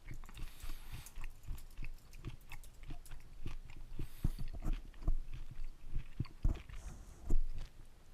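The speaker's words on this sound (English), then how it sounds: "Let me finish chewing." Someone chews food close to the microphone, soft crunching bites and moist mouth sounds repeating irregularly at low level, with no speech.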